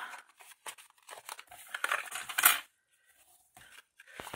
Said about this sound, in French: On marque les plis.